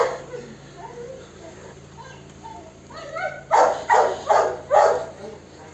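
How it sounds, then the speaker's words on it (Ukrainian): A Cane Corso barks four times in a steady rhythm, deep and loud, after a stretch of quieter muffled sounds, heard outdoors near a parked car. "То мій канекорсо так гавкає"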